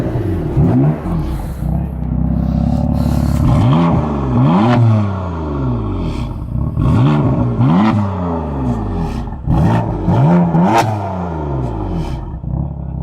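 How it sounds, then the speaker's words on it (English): A BMW M3 F80 engine fires up and is blipped repeatedly, with several sharp revving rises and falls over a steady rumbling idle, loud and close, with no talking over it. "Give it a little rev, a little cheeky rev."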